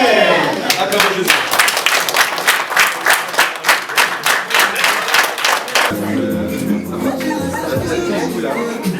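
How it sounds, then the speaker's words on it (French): Congregation at a wedding service breaking into loud rhythmic clapping, steady beats near and full for several seconds, then settling into a softer wash of applause and murmur. "Acclamons Jésus."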